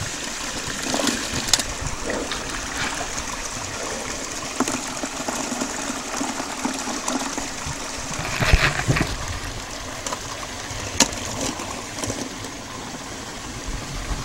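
Water runs steadily through the riffles of a gold sluice box at a creek, a continuous near rush and trickle with occasional splashes and gurgles.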